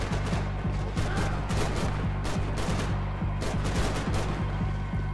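Rapid, sustained gunfire in a Max Payne 3 firefight against police: dense overlapping bursts of automatic fire crackle continuously at close range, loud and unbroken for several seconds with no talking.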